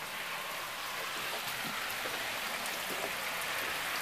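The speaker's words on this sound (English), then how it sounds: "Bumby, you're standing in the rain." Steady rain falls and patters on surfaces, a constant wash of close drops with no voices.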